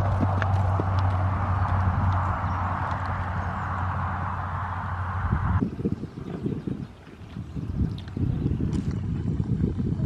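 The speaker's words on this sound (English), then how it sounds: "I could not sit that bouncy trot." A horse trots with a bouncy gait, its hooves clip-clopping in a steady rhythm under strong wind noise that drops away partway through, leaving the hoofbeats rougher and closer.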